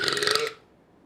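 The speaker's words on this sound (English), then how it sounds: "are you burping again into the microphone?" A single loud, croaky burp close to the microphone, lasting about half a second before cutting off into quiet.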